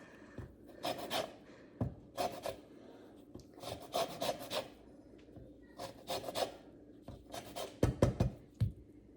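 Lemons being zested on a metal grater for lemon poppy seed muffins, a close, dry rasping in short repeated bursts of strokes with brief pauses between them.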